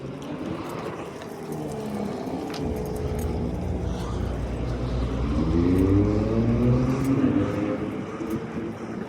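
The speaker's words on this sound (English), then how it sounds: "Give my car a nice long drive." A car being driven on an errand trip, with steady low engine and road rumble throughout, rising in pitch and loudness midway as it speeds up, with occasional faint voice-like sounds.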